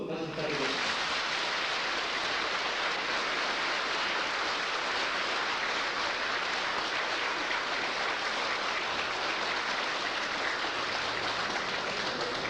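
Sustained applause from an audience at a Buddhist dharma lecture hall, dense and steady clapping filling the room for the whole stretch without pause.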